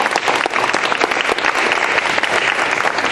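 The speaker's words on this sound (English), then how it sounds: "let's give our candidates a round of applause." Audience at a Liberty Common School board candidate forum breaks into steady, dense applause, many hands clapping loudly and continuously throughout.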